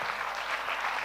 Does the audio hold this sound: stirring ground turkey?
no